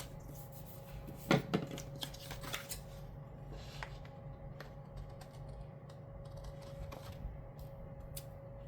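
Scissors trim the top edge off a sheet of paper in a few close, crisp snips. A soft rustle of handling follows, and the room is otherwise quiet.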